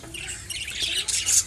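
Caged birds and chicks nest inside a clay pot on a bird farm in Nagaon, Assam. Short, harsh squawks and chirps sound close by, growing louder over a second and a half.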